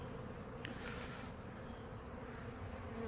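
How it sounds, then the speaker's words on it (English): A swarm of honeybees buzzes around a hive during a sugar shake mite test, a dense steady hum close by and fairly faint, with no talk over it. "a swarm going on."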